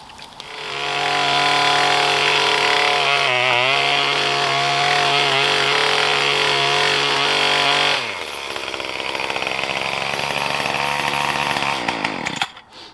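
Rototiller engine running at high revs while grinding through a compost layer, a loud continuous droning roar that shifts in pitch partway and then drops to a rougher, slightly quieter churn before cutting off.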